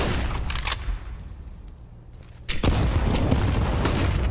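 Grenade blasts in the CS:GO shooter video game, heavy booming explosions with rumbling low-end, a burst of sharp cracks early and a second big detonation midway that leaves a sustained roar.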